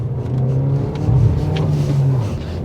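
A Renault Megane 4 with a 1.3 TCe 140 hp engine accelerates, its steady engine drone rising and swelling briefly mid-way, heard from inside at moderate loudness with no talk.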